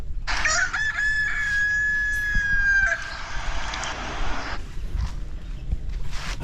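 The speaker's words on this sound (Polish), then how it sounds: "bo ja z telefonu puszczam pianie koguta" A rooster's crow played through a phone loudspeaker, one long, loud, tinny cock-a-doodle-doo lasting about three seconds, followed by quieter background noise and faint scattered sounds.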